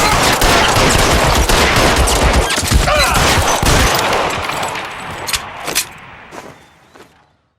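A loud, dense fusillade of gunfire in the video game L.A. Noire, continuous overlapping shots crowding together before thinning into scattered final cracks and fading out.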